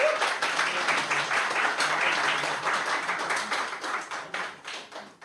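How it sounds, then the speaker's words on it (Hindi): Audience applause at a poetry event in Vadodara, a steady dense burst of many hands clapping that holds throughout and thins slightly toward the end, loud and close. "एक बार ताली बजाइए।"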